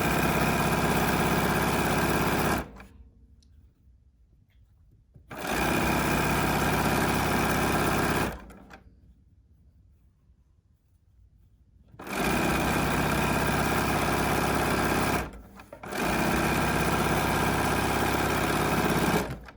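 A BERNINA sewing machine runs in fast, steady bursts while stitching patchwork seams, its busy mechanical whir starting and stopping with brief quiet pauses between the runs of stitching.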